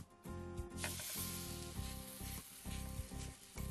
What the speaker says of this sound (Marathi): तवा आपला छान तापलेला आहे. आता आपण आपली रोटी आहे ती तव्यावर टाकूया.